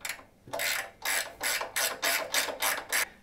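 Close ratcheting on a Laguna 1632 SuperMax drum sander as its bolts are cranked down, seven or eight even, rhythmic clicking strokes with short pauses between, near and alone.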